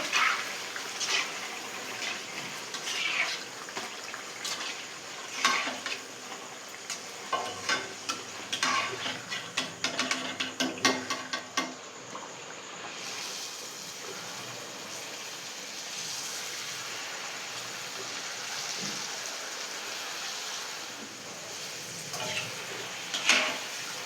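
Puchka puffing up in hot oil in a kadai as the oil is stirred, a steady close sizzle and bubbling with scraping stir noises throughout, no talking.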